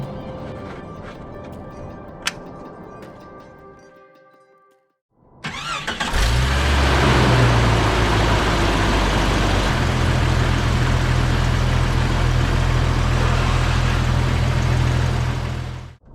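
A car engine cranks and catches after a fresh oil change, then settles into a loud, steady idle close by, with a faint change in pitch partway through and no talking.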